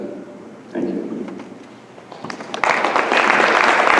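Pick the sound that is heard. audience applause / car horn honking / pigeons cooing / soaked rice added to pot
audience applause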